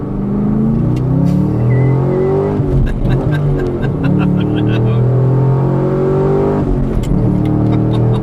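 A sports car engine revs hard up and down, loud and close, with rising and falling pitch sweeps and brief crackles between pulls.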